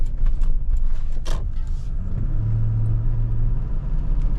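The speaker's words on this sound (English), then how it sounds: "Got a car coming up on me" Car coming up from behind on a road before a turn onto a residential street, a fairly loud rumbling approach that swells and passes close with a brief engine tone, no talk.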